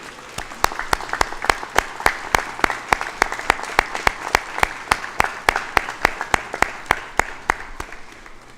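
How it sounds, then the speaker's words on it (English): Graduates at a University of Guelph convocation ceremony applaud their friends, families and parents with loud, strongly rhythmic unison clapping, about three sharp beats per second, that keeps going for over eight seconds. "Turn around and give a round of applause to your friends, families, and parents."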